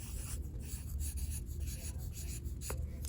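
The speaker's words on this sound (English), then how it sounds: "let's just go ahead and write the word school" Fat marker squeaking and rubbing across the back of a paper catalog, a rapid series of short strokes close up with no voices.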